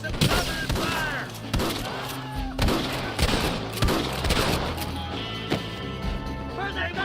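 Gunfire in a Red Dead Redemption shootout: loud, close bursts of repeated shots and booming reports trade back and forth continuously, with shouted voices mixed in among the blasts.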